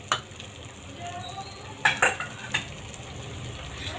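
Masala gravy fries in oil on a dhaba-style veg Maratha dish, a soft continuous sizzle broken by a few sharp metallic scrapes and clinks as a spoon stirs the pan, close-up and without speech.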